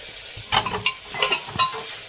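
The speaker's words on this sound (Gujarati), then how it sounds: "તો જો ચમચી હલાવવું." A spoon scrapes and stirs through a pan of sizzling, frying food, in several short, uneven strokes over a soft background hiss.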